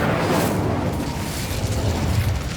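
An Incendio fire spell cast in the video game Hogwarts Legacy gives a rushing, fiery whoosh with a low rumbling burst, loud and sustained for a couple of seconds with no talk over it.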